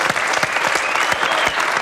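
A television studio audience applauds in a dense, steady burst of clapping that stays loud and close throughout, with no speech over it.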